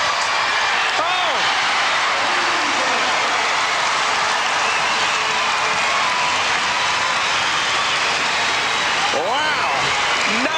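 Arena crowd roaring at a basketball all-star game after a turnover, a sustained loud wash of cheering with whistle-like shouts, heard under a commentator's voice.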